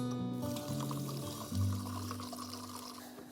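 Water pours steadily into a pot of rice being cooked outdoors on a riverbank, a continuous gurgling splash with a low hollow filling tone rising slightly partway through.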